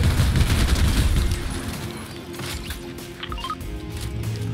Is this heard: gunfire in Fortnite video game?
yes